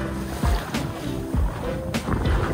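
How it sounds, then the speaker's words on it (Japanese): Choppy sea waves slapping and surging against a boat in a turbulent tidal current offshore, close, loud and irregular, with wind rushing throughout. "下に落っこちていく潮と上でもうぐるぐる回っちゃう潮が混ざるんで、こうやって急に波が立つんですよ。"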